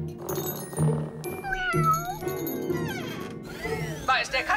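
A cartoon cat in a Disney animated show meows several times. The rising and falling meows are fairly close and clear and sit over a light backdrop of music and tinkling sounds.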